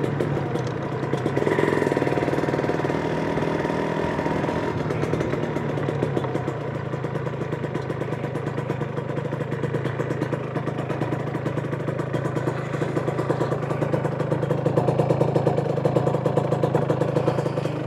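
A Kawasaki SSR150 motorcycle engine runs steadily at a low, rattling idle with a slight rise in revs, fairly close and continuous throughout.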